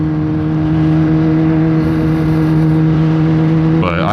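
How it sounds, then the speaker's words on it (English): A 2018 Kawasaki ZX10-R sport motorcycle fitted with an M4 carbon fiber exhaust, its engine running loud and close with a steady, droning tone and strong hum, no talk over it. "I think it sounds amazing. I hope you guys can hear me over it because it is pretty loud"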